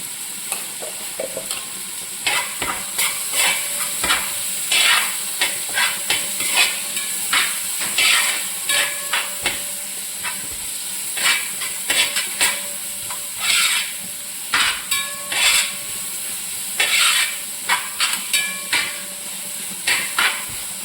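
Sliced onions frying in a pan for chicken curry, a steady hiss broken by repeated sharp scraping and clanking stir strokes in an irregular rhythm, close and loud, no speech.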